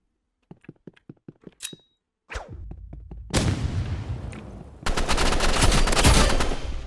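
Sharp gunshots crack out in a quick series in a Roblox video game, then dense, sustained bursts of rapid fire and explosions fill the rest, loud and close.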